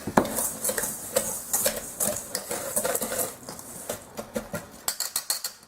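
A utensil beats and scrapes against a bowl in quick, rhythmic strokes as brown sugar is mixed into the other ingredients. The strokes are close and repetitive, speeding up toward the end, with no talk.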